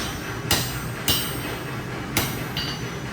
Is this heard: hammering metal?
yes